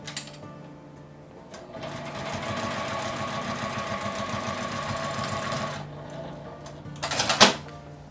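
A sewing machine stitches fabric along the zipper of a divided pencase, its needle running in a fast, even mechanical patter for several seconds before it stops, with a brief rustling burst of handling near the end.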